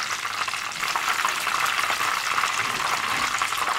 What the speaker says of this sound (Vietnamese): Mình chiên ở lửa vừa để phần thịt bên trong được chín đều nha các bạn.